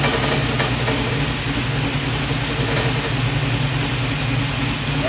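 A 1973 Chevrolet Nova with an LS engine swap idles through a Magnaflow 15896 exhaust, a steady low rumble with a loping pulse that holds at a constant, close, fairly loud level throughout.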